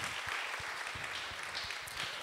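A conference audience applauds a speaker named Céline after her introduction at a leadership masterclass, a steady, faint wash of clapping that continues evenly throughout.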